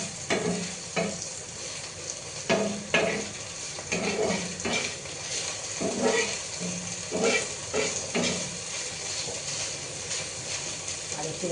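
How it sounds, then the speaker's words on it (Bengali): Potatoes fry in a pan in a home kitchen, a continuous sizzle broken by repeated scraping strokes of a utensil stirring them, close and moderately loud. "আলু ভাজা কিন্তু হয়ে গেছে"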